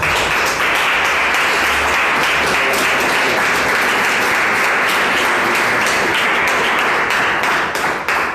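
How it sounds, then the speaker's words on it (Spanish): A large congregation at the start of a Yom Kippur service applauds loudly and continuously, a dense roar of clapping hands that holds steady throughout. "Vamos a dar un aplauso al Creador."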